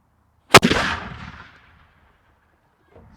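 An 18th century cannon fires once, a single loud, sharp blast followed by a rumbling decay that fades over about a second, then near silence.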